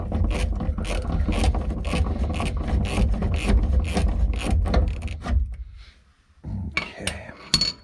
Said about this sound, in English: We'll take our J-bolts and go ahead and loosen them up